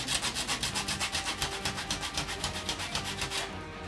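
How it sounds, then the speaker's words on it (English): Steady back-and-forth strokes of rough sandpaper on soft ABS plastic, a rough, rhythmic scratching repeated about a dozen times, close and fairly loud, stopping just before the end. "just use some really rough sandpaper."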